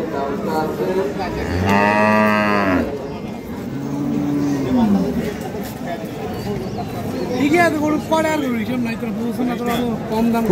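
Dairy cows and calves at a rural cattle market in Dinajpur moo loudly, one long close call followed by shorter lowing, amid crowd chatter and people talking.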